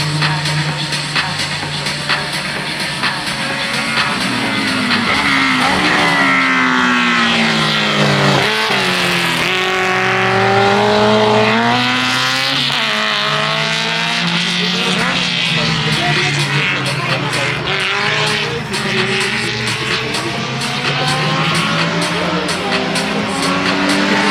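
A race car engine at the Croix-en-Ternois motor festival roars loudly and continuously, revs rising and dropping sharply through repeated downshifts, with a brief dip near the middle.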